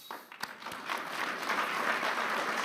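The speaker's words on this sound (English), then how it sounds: "I think the president really should get an applause for that." A conference audience at the World Economic Forum annual meeting 2025 breaks into applause for the president, a few scattered claps first, then building into sustained, even clapping that fills the hall.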